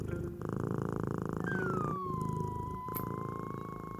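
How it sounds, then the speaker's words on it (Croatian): Persian cat purring steadily and close up, a continuous low rumbling pulse throughout, with a faint whistling tone gliding down in the middle and no voices. "dok nam perzijska maca prede u"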